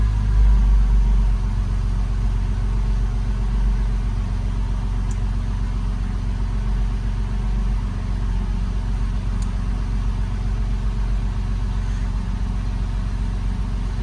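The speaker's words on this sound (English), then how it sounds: "I'll just start the car" A Porsche Boxster 2.7 986 Facelift engine hums at a steady low idle after starting, close by and continuous, with no voices over it.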